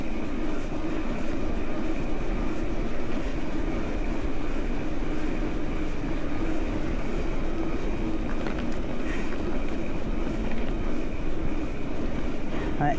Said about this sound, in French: Ouais, un joli vent de face.